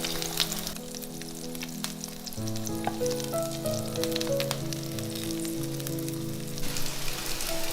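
Stuffed zucchini frying in a pan, a steady, loud sizzle throughout with crackling spatters, accompanied by background music.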